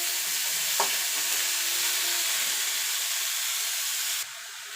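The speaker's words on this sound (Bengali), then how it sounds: "এবার শাবলাটা মিনিটখানেক একটুখানি নাড়াচাড়া করে নেব" Water lily (shapla) stems frying in a wok-style kadai while being stirred, a dense continuous sizzle and hiss with one brief scrape, close and steady, dropping in level near the end.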